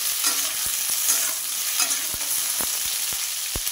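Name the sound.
ridge gourd stirred in hot oil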